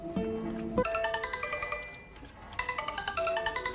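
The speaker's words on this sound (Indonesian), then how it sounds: "Kemudian ponsel kembali berdering." A mobile phone rings indoors with a bright, melodic ringtone: a short burst of chiming notes, a brief pause, then the tune repeats in quick pulsing steps, fairly loud and alone.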